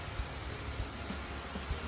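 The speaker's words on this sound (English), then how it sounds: "It's just been pouring buckets today." Heavy rain pouring outside a barn, a constant dense roar of rainfall on surfaces with scattered heavier drops, no voices.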